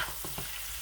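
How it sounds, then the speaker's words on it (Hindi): Mutton with ground cumin and dry coriander gets stirred in a kadahi, a couple of soft scraping strokes over a faint, steady sizzle, no voices. "ये तमाम चीज़ें ऐड करके अच्छी तरह से इसको मिक्स कर देना"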